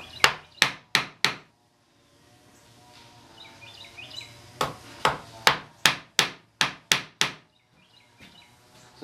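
A mallet strikes a chisel, a number 5 sweep about 3/4 inch wide, carving wood volutes, with two sharp rhythmic bursts of close knocks separated by a quieter pause where faint birdsong is heard.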